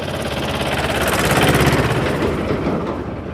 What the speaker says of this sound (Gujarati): આ મહિન્દ્રા ટ્રેક્ટર જો